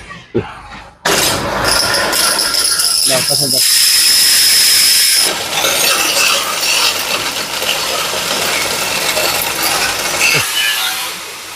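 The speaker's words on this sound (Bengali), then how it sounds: "তো আমাদের ক্রাশিং হচ্ছে, কি সুন্দর ঘোরা হয়ে যাচ্ছে।" A combined maize-crushing and straw-cutting machine runs loudly and steadily, with a dense grinding, rattling roar and high hissing tones throughout, after a brief quiet start.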